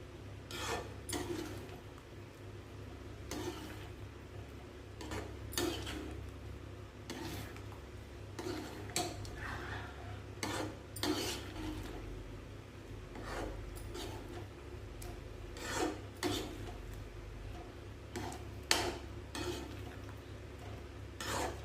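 A spoon repeatedly scrapes and stirs thick bun halwa with milk around a pan, giving a steady series of soft rasping strokes close up, quiet and unaccompanied by speech.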